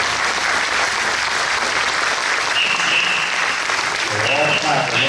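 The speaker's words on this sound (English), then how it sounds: "And here's the crowd clapping." A crowd at the Evans Wartime Museum claps steadily and loudly throughout, a dense, even wash of applause with a few voices murmuring faintly near the end.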